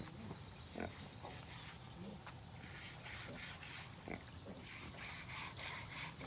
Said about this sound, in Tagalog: Malambing din po ang baboy na ito.